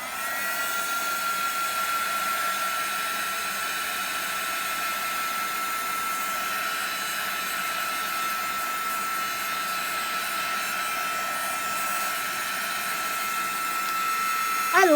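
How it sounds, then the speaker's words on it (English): A heat gun drying a paper craft project blows a steady, loud whirring roar nonstop for the whole stretch, ending with a brief clatter. "Plug in my heat gun, and we're going to make some noise here for just a minute."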